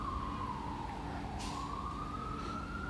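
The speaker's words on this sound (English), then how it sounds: "And there's the sirens." Emergency vehicle siren wailing outside on the street, a steady rising and falling tone that stays loud and close throughout, with no talking over it.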